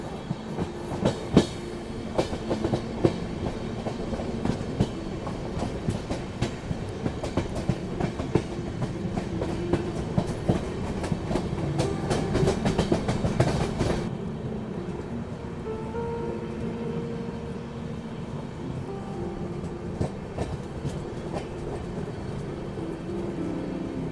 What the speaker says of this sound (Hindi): ये मेरे ख्याल से अहमदाबाद बरौनी एक्सप्रेस का डिपार्चर हो रहा है डीडीयू से